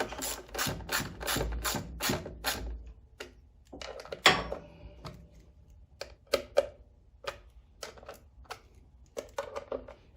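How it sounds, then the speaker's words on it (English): A ratchet wrench snugs down bolts on a Powerhorse 13000 watt generator during a gasoline-to-propane conversion, giving a rapid run of loud, close clicking bursts followed by sparser, separate clicks and clunks. "And just go around and make sure they're all snug."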